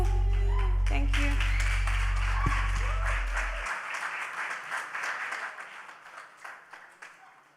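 An audience at a college prize-giving day applauds after a singer's performance. The dense clapping starts under a low sustained tone that cuts off, then continues and slowly tapers.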